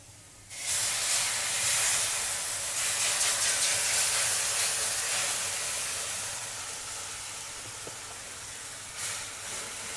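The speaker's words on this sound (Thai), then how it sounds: "เราจะคั่วพริกแกงใส่กับกะทิก่อนนะ" Southern Thai curry paste dropped into hot coconut milk for roasting, part of a curry with pork bones, gives a sudden loud sizzling hiss that slowly fades, with a short flare of sizzle near the end.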